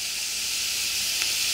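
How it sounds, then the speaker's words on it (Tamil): Mustard seeds, urad dal, curry leaves and dried chillies sizzle in hot oil in a kadai, a steady close hiss with a faint crackle, no speech over it. "கடாயில் கொஞ்சம் ஆயில் போட்டு கடுகு, உளுந்து, கருவேப்பிலை, காஞ்ச மிளகாயை போட்டு தாளிக்கணும்."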